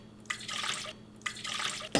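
Apple cider vinegar poured for a quick pickling liquid, splashing in two bursts with a short pause between, faint and close, ending in a brief clink.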